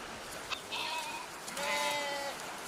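Several goats bleat at a goat farm in Chongjin, North Korea, with short overlapping calls at moderate distance over a steady ambient background.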